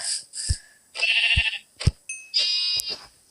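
Minecraft sheep bleat in a handful of short, nasal calls. The bleats are close and clear, spaced unevenly over a few seconds, with brief clicky game sounds between them.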